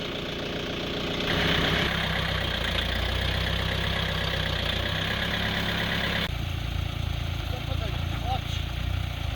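A tractor engine idles steadily nearby, a continuous low rumble with a slight shift in tone partway through, while a person talks over it.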